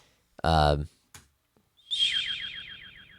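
A person whistles through their teeth in imitation of a bird call, a short burst of voiced sound and a click followed by a fluttering, warbling whistle that trails off over about a second.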